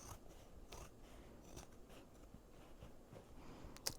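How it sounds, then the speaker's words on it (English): Quiet, close snips of scissors cutting fabric and thread, a series of soft irregular crunches with a sharper click near the end. "take my scissors and I'm gonna cut as close to this thread as I can"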